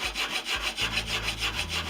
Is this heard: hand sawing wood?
yes